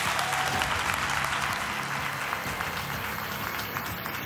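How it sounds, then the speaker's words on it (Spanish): Applause from a television talent-show audience on Got Talent auditions in Spain, steady dense clapping throughout, loud and close, with no talking over it. "Un aplauso para Santi, por favor."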